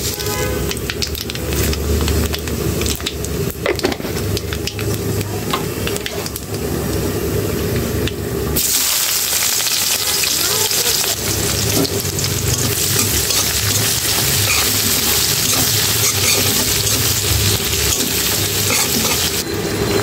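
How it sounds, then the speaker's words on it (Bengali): Nigella seeds dropped into hot oil after frying fish, a loud dense sizzle and spatter throughout, swelling brighter and hissier midway as the seeds hit the oil, with occasional stirring. "এখানে একটু কালি জিরা দিয়ে দিলাম"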